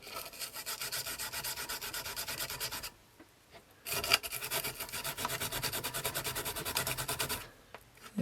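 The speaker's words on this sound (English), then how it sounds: "light scourer's not doing too bad a job" A light scourer scrubs a worn car instrument part, such as an HQ Holden speedo or a Datsun Stanza clock, in steady rapid rasping strokes, pausing briefly midway before the scrubbing resumes, close and continuous.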